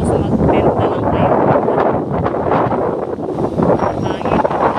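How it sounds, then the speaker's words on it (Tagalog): Strong wind gusts buffet the microphone at a seaside beach resort in Nakar, Quezon, a loud, rough, continuous roar that rises and dips. "Hangin."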